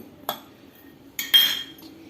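A utensil clinks twice against a bowl while chicken momo filling is mixed with spices, over a soft background hum.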